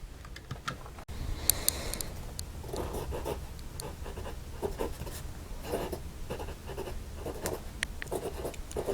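Yellow Wing Sung 3003 fountain pen writing on paper, quiet close-up scratching strokes in quick irregular bursts with brief pauses, no talking.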